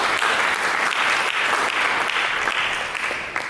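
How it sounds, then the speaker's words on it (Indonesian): Sustained applause from a church congregation clapping for Jesus during a sermon, a dense, steady wash of many hands close by, alone without talk, tapering slightly at the end. "Berikan tepuk tangan bagi Yesus."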